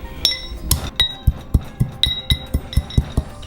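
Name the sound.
pestle crushing cinnamon in a mortar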